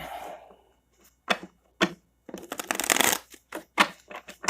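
Cards being shuffled in several quick riffling bursts separated by short pauses, close and crisp, with faint breathing noise.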